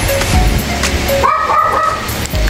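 A black dog near a small business with a reversing machine lets out a few yipping barks and bow-wows, fairly close and clear over a steady background hum.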